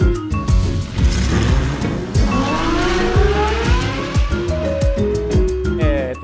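A Jaguar Formula 1 race car with an 800 hp Cosworth V10 screams at high revs, climbing and dropping in pitch through rapid gear changes. The sound is loud and continuous, close by, with sharp shifts and bursts of acceleration.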